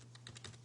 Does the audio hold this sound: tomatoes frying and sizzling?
no